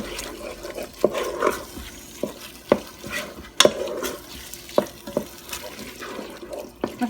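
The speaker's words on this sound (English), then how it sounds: "We're going to make sure all the hamburger meat is coated in this lovely taco seasoning, and we're just going to let this cook for a few minutes." Hamburger meat with taco seasoning cooks in a Ninja Foodi, a low background sizzle broken by repeated sharp scrapes and clacks of a utensil stirring the meat in the pot.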